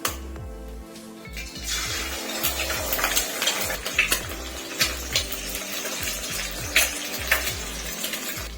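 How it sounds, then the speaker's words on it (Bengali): Two eggs frying in hot oil in a wok, with steady sizzle and repeated metallic scrapes and taps of a utensil against the pan. "2টো ডিম আমি ভেজে নেব।"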